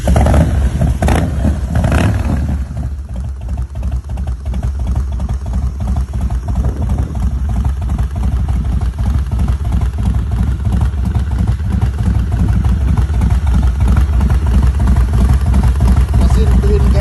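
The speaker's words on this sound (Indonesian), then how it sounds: "Mesin twin cam 1450 cc ya, atau 88 kubik." A Harley-Davidson Heritage Softail with a 1450 cc Twin Cam 88 engine runs close and loud, a steady, low, thumping throb that continues throughout with little change.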